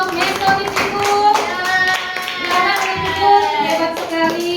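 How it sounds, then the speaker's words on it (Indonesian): A classroom of students applauds a group presenting on the Mesolithic period, with steady hand clapping lasting the whole stretch. Moderately loud and fairly even, with a voice faintly mixed in. "beri tepuk tangan untuk kelompok Mesolitikum"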